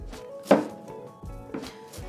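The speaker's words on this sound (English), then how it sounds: "We're gonna start by chopping our zucchini into small cubes." A knife chops zucchini into small cubes for a lasagna filling, with four or five crisp, separate cuts spaced about half a second apart, close and distinct with no talking.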